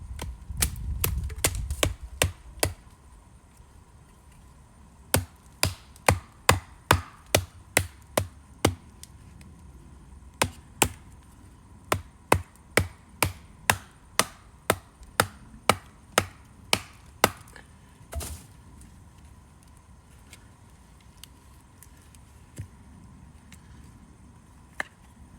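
A wooden baseboard for a bow-drill fire kit is split outdoors with a run of sharp, evenly spaced knocks and taps, about two dozen of them, fairly close, with quieter gaps between bursts.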